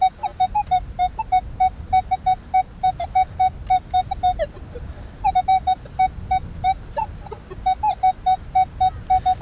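Rapid repeated electronic beeps at a steady pitch from a Minelab Manticore metal detector over a shallow target on a rocky beach, pulsing in quick bursts with brief pauses, over faint outdoor background noise.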